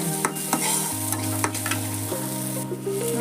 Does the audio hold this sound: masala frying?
yes